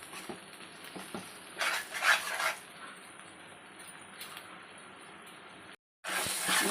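Gongura prawn pickle stirred in an oily pan, soft scraping and clinking of a spoon in bursts, with a faint sizzle underneath and a brief gap before the stirring resumes.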